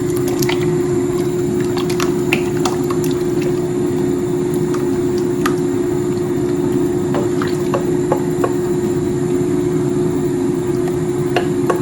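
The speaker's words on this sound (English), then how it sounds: "You really need to stir it very quick so that it won't be lumpy." Corn flour mixture being stirred quickly into cold water for Ghanaian akpele, giving a steady wet squishing and sloshing texture with scattered small clicks and drips, close and continuous throughout.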